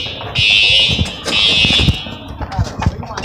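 A Siemens school fire alarm blares in two long electronic tone bursts, loud and near, followed by scattered voices and bumping noises as people move out.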